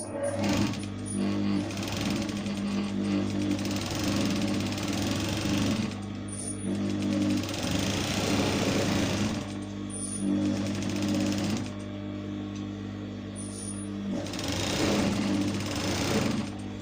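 A sewing machine stitches all the way around a fabric bonnet circle in steady, rapid, close whirring runs, broken by short pauses between bursts.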